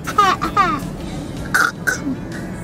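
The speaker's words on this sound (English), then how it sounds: "Oh, that's a terrible cough you have." Rough, harsh coughing bursts at a parade, a few in quick succession, close by with a raspy throaty quality, followed by short vocal sounds.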